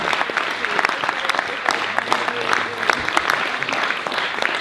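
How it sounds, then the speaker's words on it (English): A lecture audience applauds a panellist at a memorial lecture Q&A session, steady dense clapping filling the room throughout, with some murmured voices mixed in. "please give her a great round of applause. Bidisha."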